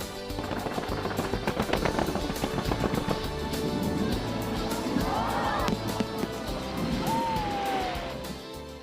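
Fireworks at an autumn-night world fireworks festival on the Han River riverbank crackle and pop in dense rapid bursts over a continuous crowd murmur, with a rising whistle near the end.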